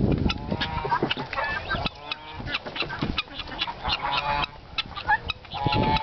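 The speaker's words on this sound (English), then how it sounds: "look at those fighting chickens, even fighting ducks, my God." Fighting chickens and ducks at a cockfighting ring make continuous loud, overlapping squawks, clucks and honking calls, close by and busy throughout.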